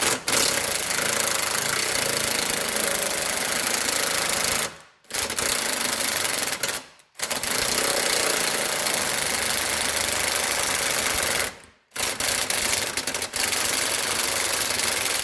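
Loud, continuous rattling of an impact wrench on the oil pan bolts of a 2010 Dodge Grand Caravan 3.3, running in long bursts with a few brief pauses between them, close by.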